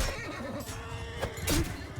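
A horse whinnies in a medieval Bannerlord battle, giving a short wavering neigh followed by a sharper call, heard over a dense background of battle noise.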